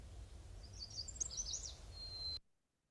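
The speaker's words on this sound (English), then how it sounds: "it sounds like a chestnut-sided warbler" A recorded chestnut-sided warbler song plays faintly, a short run of high, bright whistled notes ending in a sustained tone before cutting off abruptly into silence.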